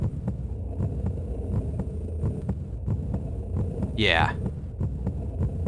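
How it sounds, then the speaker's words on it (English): Steady throbbing heartbeat sound effect from the Chrono Trigger video game, repeating in an even pulse throughout at moderate loudness, with a brief rising tone near the end and a short spoken word over it. "the heartbeat is getting faster the closer we get to the core"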